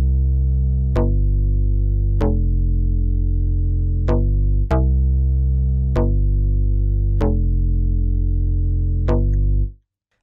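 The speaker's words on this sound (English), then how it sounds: "This is a very simple electronic bass line and we are using" A simple electronic bass line from a Logic software bass plays sustained low notes, each starting with a sharp attack, about eight notes in a slow steady rhythm that cut off cleanly at the end.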